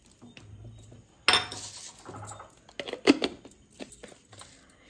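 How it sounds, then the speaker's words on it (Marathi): Granulated sugar pours and clinks into a portable blender jar, a brief rattling burst near the start followed by scattered tinkling grains and a few sharp clinks of the jar. "साखर ह्याच्यात आता मी ॲड ऑन करते, बघूया आपण ही बारीक होतं का"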